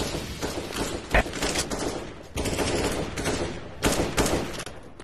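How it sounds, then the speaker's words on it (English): Automatic gunfire from a first-person shooter match fires in dense, continuous sprays with a few sharp bursts standing out, loud and steady throughout with no voices. "they are flat out spraying out in the open, pre-firing every single position"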